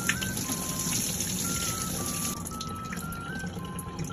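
Tap water runs steadily over wild chicken bone herb being rinsed in a home kitchen, a soft continuous trickle and splash with no voices.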